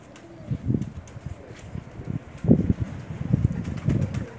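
Several pigeons of a single breed (Bakhsi-type show pigeons) coo in low bursts with a soft flutter of wings, repeated calls rising and falling over a few seconds at close range with no talk.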